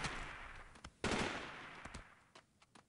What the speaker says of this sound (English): I heard some people shooting at me from pretty close by